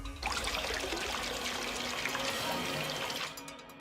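Water fills a container in Zero Escape: Virtue's Last Reward, a continuous close gushing pour that runs steadily for about three seconds, then cuts off abruptly.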